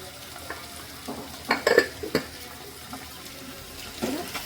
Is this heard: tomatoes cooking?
yes